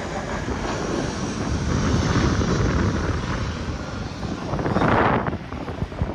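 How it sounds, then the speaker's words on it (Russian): An airplane lands at the airport in Adler, near Sochi, close to the seashore. Its engines make a loud, steady roar that swells toward the end as the aircraft passes overhead. "Тут рядом аэропорт, и вот постоянно самолеты тут садятся."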